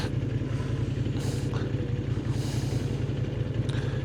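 A Moto Guzzi Griso motorcycle being ridden, its engine giving a steady low, throbbing drone close by with even rhythmic pulses and faint wind noise, no break in the sound.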